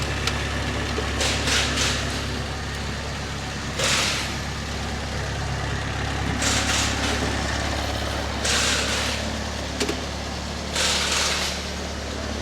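An Alfa Romeo Spider engine idling at operating temperature with its air filter off, a steady low rumble with recurring hissy bursts of intake or air noise, close and fairly loud.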